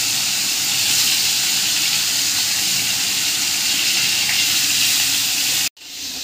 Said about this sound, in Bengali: তেলটা গরম হয়ে গেছে, তেলেতে আমি মাছগুলো দিয়ে দেবো, ভেজে নেবো মাছগুলো